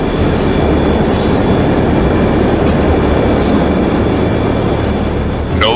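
An airplane takes off in a sound effect: a loud, steady engine roar fills the whole stretch with constant rumble and a few faint high whines, with no voices.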